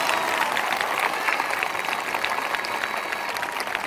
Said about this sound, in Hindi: जो मुस्कुराकर धन्यवाद कर रहे हैं तालियों के साथ